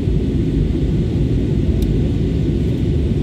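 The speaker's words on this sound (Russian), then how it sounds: "Приземляемся над Миланом." A passenger plane descends to land over Milan, heard from inside the cabin as a steady, loud, low rumble of engine and airflow noise, with no voices.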